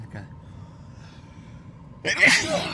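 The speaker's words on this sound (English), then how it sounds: "Excuse me, sneezes really annoy me." A single sharp sneeze bursts out near the end after a quiet, murmuring stretch.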